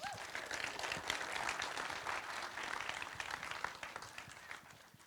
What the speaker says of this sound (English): Please, a giant round of applause for Hidde de Vries.